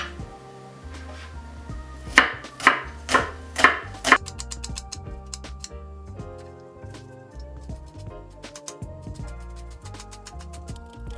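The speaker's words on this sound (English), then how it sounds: "now I'm going to chop my onion in very tiny dice, as thinly as I can" An onion is diced finely with a knife on a board, a quick run of crisp, loud chops over background music, then quieter rapid cutting continuing under the music.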